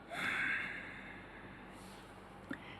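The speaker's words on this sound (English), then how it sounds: "inhale with your stomach expanded out and then exhale" A breathy diaphragmatic exhale, a soft rush of air that swells early and tapers off, followed by quiet breath noise and a small click near the end, with no speech.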